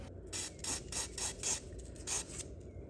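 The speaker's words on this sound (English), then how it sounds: "Spray it, press it a couple times" White lithium grease sprayed onto a Cub Cadet XT1 lawn tractor in a series of short, faint hissing bursts at an even rhythm, close and quiet with no talk.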